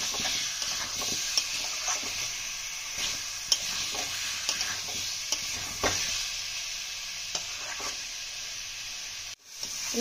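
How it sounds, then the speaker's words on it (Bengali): Potatoes are stir-fried in a spice masala in a pan for a potato dum: a constant close sizzle with sharp intermittent spatula scrapes and clicks, briefly cut off near the end. "মশলার মধ্যে আলু দিয়ে ভালোভাবে কষিয়ে নেব।"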